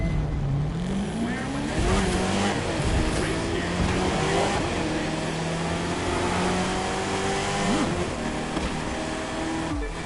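Camaro ZL1 muscle car in The Crew 2, engine revving and shifting through gears at full race pace, loud and close, with brief tire noise and someone talking over it.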